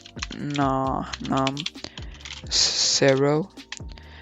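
Computer keyboard typing clicks among a speaking voice, with short bursts of keystrokes between phrases during setup of GTA 5 LSPDFR callout key bindings.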